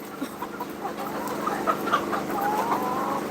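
Chickens cluck in a poultry yard, several birds close by calling in short irregular bursts over a steady background hum, with no voices.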